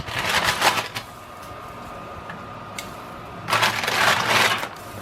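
Cooked red wine baby back ribs are unwrapped, giving two bursts of loud, close crinkling and rustling of the wrapping with a quieter pause between them.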